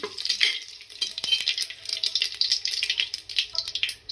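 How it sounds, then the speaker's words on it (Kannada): Curry leaves fry in hot oil in a pan while mint pulao is being cooked, a close crackling sizzle with bursts of stirring and scraping, no voices. "ಜೊತೆಗೆ ಒಂದೇಳೆ ಕರ್ಬೇವು ಸ್ವಲ್ಪ ಫ್ರೈ ಆಗಲಿ"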